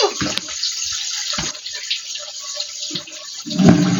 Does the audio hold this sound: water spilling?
yes